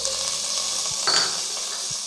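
Onions sizzling in hot ghee in a kadai, a steady broadband fry hiss with a brief louder burst of sizzle around the one-second mark as they are stirred, close and continuous with no talking.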